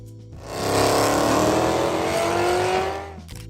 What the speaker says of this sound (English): 1996 Chevrolet Impala SS.